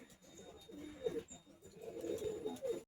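A pair of pet pigeons in a loft coo softly in low murmuring bursts, faint and close, with a quiet background.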